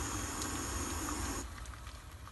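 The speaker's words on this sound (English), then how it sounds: "Okay, there we have it. A full rolling boil." A Jetboil camp stove holds water at a full rolling boil, giving a steady close hiss and bubbling rush that drops in intensity partway through as the flame is turned down.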